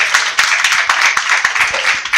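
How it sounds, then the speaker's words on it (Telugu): A congregation clapping loudly at a church service, brisk steady handclaps filling the room with a few sharper accents throughout. "గట్టిగా చప్పట్లు కొట్టి"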